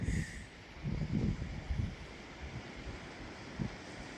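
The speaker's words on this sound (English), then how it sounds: "Atlantic Ocean." Atlantic Ocean waves along the Portuguese coast, a faint rolling wash of surf mixed with gusts of wind buffeting the microphone, soft swells rising and falling over a few seconds.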